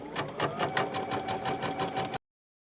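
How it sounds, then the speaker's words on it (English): An embroidery sewing machine stitches the placement outline for freestanding 3D flowers, a quick steady mechanical chatter with an even beat that runs for about two seconds and then stops abruptly. "you're going to proceed to sew out the first color in the design, which is going to be our placement stitch"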